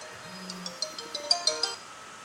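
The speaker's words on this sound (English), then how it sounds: "Getting a phone call, excuse me." A phone's ringtone sounds for an incoming call, a short series of bright, evenly spaced electronic chirps that step along rhythmically over a quiet background, clear and fairly close, with nobody speaking.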